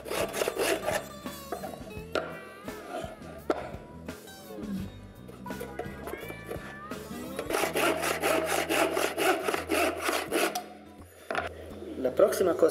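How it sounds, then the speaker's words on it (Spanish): A hand saw cuts small wooden boards in rapid, rhythmic back-and-forth strokes, close and scratchy, with pauses between runs. "tomar una tablita, algo así, más o menos 10 centímetros de alto, cortar dos de estos,"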